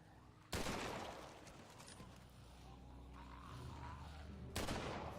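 Gunfire in the zombie survival game The Walking Dead: Survival Instinct: two loud sharp shots, one near the start and one near the end, with a low rumbling hum between them and no talking.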